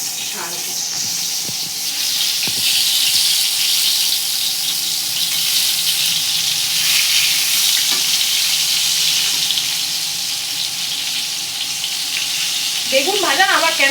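Eggplant pieces sizzling in hot oil, a loud continuous frying hiss that holds steady throughout, with a few faint clinks and a brief rising chirp near the end.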